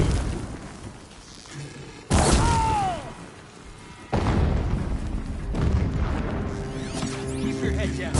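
Gunfire and heavy impacts in the video game Horizon Zero Dawn Remastered, loud booming bursts over a busy game soundscape, with voices speaking in between.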